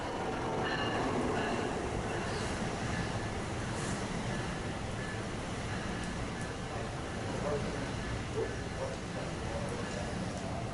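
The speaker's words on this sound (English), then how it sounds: "As soon as it arrives, the northbound commuter departs." Northbound commuter train led by locomotive 4619 rolls past at a New Jersey station, a steady broadband rumble of wheels and cars holding for the whole span, with faint talk audible beneath.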